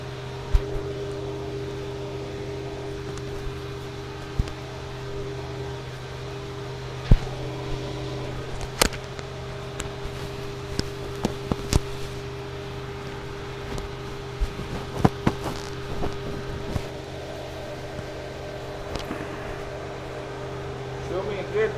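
An Aptima Motors 450 eCobra electric roadster on a test drive gives a steady low drone and hum with road and wind noise throughout, plus scattered clicks and bumps, while people talk over it.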